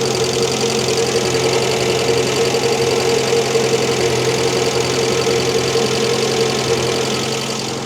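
A Renault 5 Gordini engine idles steadily and loudly up close, with a continuous rough hum and faint knocking rhythm throughout.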